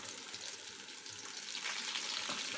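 Half an onion sautéing in oil, with red chillies and garlic in the pan, gives a soft, steady sizzle and frying crackle that grows slightly louder toward the end, heard close with no voices.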